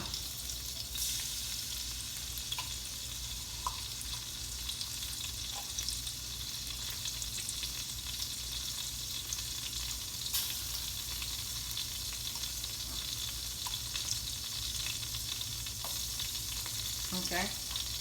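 Tomato paste fries in hot oil with a soft, continuous sizzle and crackle, steady and fairly quiet, punctuated by occasional small pops and faint utensil taps from stirring.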